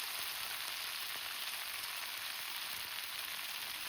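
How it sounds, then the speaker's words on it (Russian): Garlic and fresh spinach frying in a hot pan, a steady, dense crackling sizzle that stays close and even throughout with no voices. "в сковородку я сразу же добавляю шпинат"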